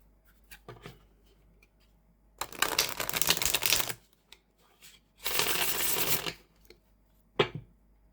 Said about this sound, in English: Can't resist shuffling this one more time.